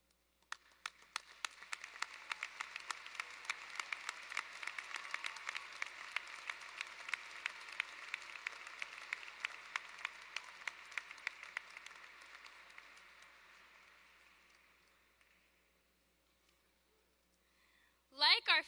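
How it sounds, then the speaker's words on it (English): Graduation ceremony audience giving a long round of applause: dense, steady clapping that holds for about twelve seconds before thinning and fading out, followed by silence and a brief sharp sound at the very end. "Please rise and join me in giving a rousing round of applause for these people who never told us that we cannot do it."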